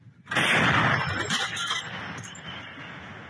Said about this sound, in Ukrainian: З різних калібрів українські гармаші прикривають піхоту та зривають російські плани